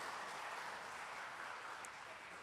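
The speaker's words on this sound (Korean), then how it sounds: "그리고 박수로 영광 올려드리겠습니다" Congregation applause during a church service, a dense, steady wash of many hands clapping throughout, moderately quiet and even with no talk over it.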